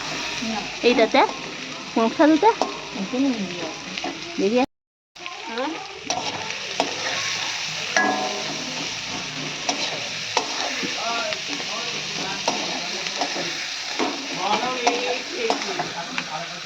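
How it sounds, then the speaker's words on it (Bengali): Onion and tomato fry together in a wok, giving a steady close sizzle with frequent scraping and stirring clatter and a brief silent break early on, while speech stays faint or absent. "এদিকে পেঁয়াজ দিয়ে দিয়েছে সাথে টমেটাটাও দিয়ে দিয়েছে দুটো একই সাথে ভাজা হচ্ছে"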